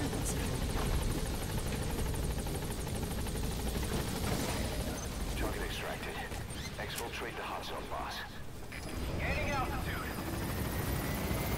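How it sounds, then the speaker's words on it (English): A helicopter sets down in the stealth game Metal Gear Solid V: The Phantom Pain, its steady, loud rotor roar and engine rumble filling the whole stretch with only a brief dip near the end. "So once your helicopter lands, just get in with the prisoner and that's it."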